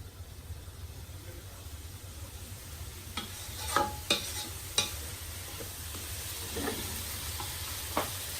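Vegetables frying with vinegar over a raised flame, a steady low sizzle with a few sharp stirring scrapes and clinks spread through it.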